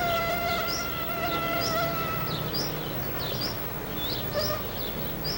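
Mosquitoes and black flies whine and buzz steadily around a wildlife researcher outdoors, dense and close, with faint bird chirps and insect trills mixed into the constant drone.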